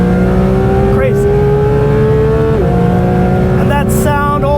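Porsche GT3 RS engine revving hard toward 9,000 RPM, a loud, continuous rising wail with a brief shift dip and a second climb, heard from inside the car at close range.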